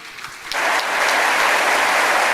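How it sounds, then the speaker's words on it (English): A convocation audience in Ernakulam, Kerala applauds, the clapping swelling from a light patter into a sustained, dense, loud roar that holds steady to the end. "Let's have a round of applause for your parents here, everyone."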